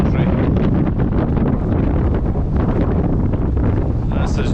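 Wind gusts buffet the microphone on a riverbank on the Spey at Arndilly in Scotland, a loud rough roar that runs the whole time, with fainter rustling mixed in.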